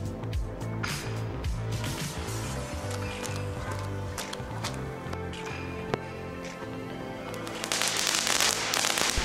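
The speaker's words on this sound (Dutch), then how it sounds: "Plaats 1 exemplaar op de grond, ga naast het artikel staan, ontsteek de lont." Small children's firecrackers are set off outdoors on the ground, with sharp pops and crackles scattered over background music and a denser crackling burst near the end.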